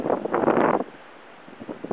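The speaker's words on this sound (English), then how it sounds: "Wild wind conditions." Strong wind buffets the microphone outdoors while fishing, a loud gusty rumble for the first moments that then drops to a quieter hiss before rising again.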